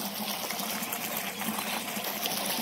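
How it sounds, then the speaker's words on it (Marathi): Water rushing steadily from a pump outlet once the electric motor is switched on, a loud, continuous gushing stream close by with no talking. "आणि मोटर चालू झाली. पाणी सोडले."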